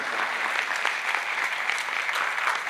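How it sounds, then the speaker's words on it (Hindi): Audience applause at a live bhajan event during a religious yatra in Bhilwara, a dense steady roar of many hands clapping throughout, fairly loud and continuous with no talking over it. "इनका ताली बजाकर एक बार सम्मान करें।"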